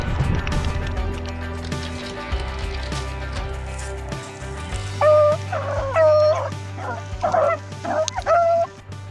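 A dog bow-wows, yips and whimpers in a short run of calls during winter crappie fishing, loud and close over a steady low engine-like hum and faint background noise.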